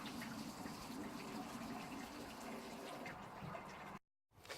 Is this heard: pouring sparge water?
yes